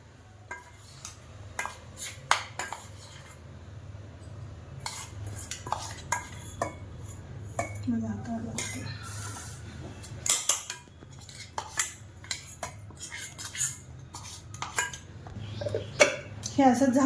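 Ground coconut is spooned into a storage jar and a lid is fitted on, giving a run of close, sharp clinks and taps of utensils against the container, scattered through a quiet kitchen.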